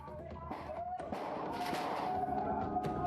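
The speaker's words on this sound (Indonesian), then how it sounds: "salah satu kelompok remaja terlihat beberapa kali melepaskan petasan" Firecrackers set off by teenagers during a street brawl crackle and pop repeatedly amid a noisy outdoor crowd, with scattered sharp bursts over a dense background din.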